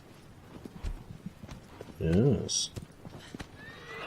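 A horse whinnies with a rising and falling cry among soft hoof clops in the Shadow of the Colossus video game, while a voice speaks briefly over the gameplay.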